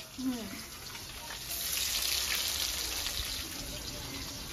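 Cumin seeds and onion frying in hot oil for a pomfret curry in a home kitchen, a steady broadband sizzle that swells after a short quiet start, with a faint voice early on.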